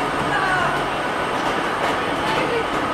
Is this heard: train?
yes